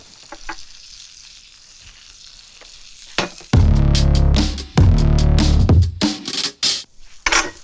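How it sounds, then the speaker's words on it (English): Brussels sprouts land in a hot pan after a quiet stretch with a few light taps, then a loud, close sizzle bursts up and surges repeatedly as they are stirred, with scraping between bursts. "Hear that sizzle?"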